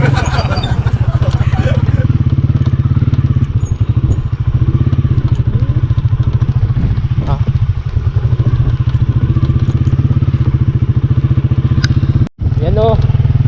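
A motorcycle rides along a rough, bumpy road on the way to a hilly spot called New Zealand of the North, its engine droning steadily and loudly throughout with scattered clatter and thumps, briefly cut off near the end.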